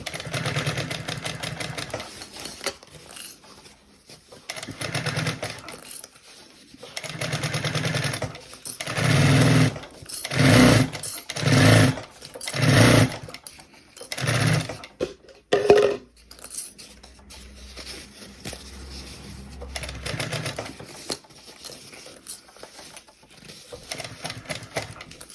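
A sewing machine stitches a bag lining with a 1.2 cm seam allowance, running in several short buzzing bursts with quiet pauses between them in a calm indoor room.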